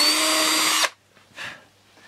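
A small power drill with a 1.5 millimeter bit boring a hole while building a SKY 120 model aircraft aileron, a loud steady whine for under a second, then a brief fainter burst after a pause.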